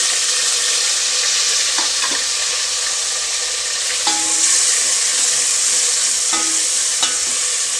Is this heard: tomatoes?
yes